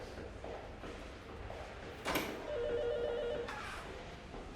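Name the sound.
telephone ringing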